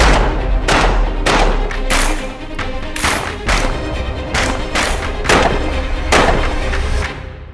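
A rapid series of about ten loud, booming gunshots fires in close succession at near range, each blast rolling into the next.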